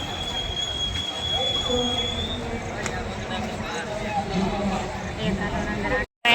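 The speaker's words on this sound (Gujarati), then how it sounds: "ટ્રેન આવી ગઈ છે" A train pulls into a busy railway station with a steady rumble and a thin, high wheel squeal, while people talk nearby throughout.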